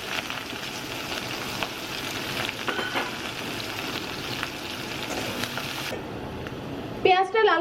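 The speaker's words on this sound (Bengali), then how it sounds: "পেঁয়াজটা লাল করে ভাজা হয়ে গেছে" Chopped onions fry with whole garam masala in a pan, a steady close sizzle that continues under a voice before cutting off, followed by some brief clatter.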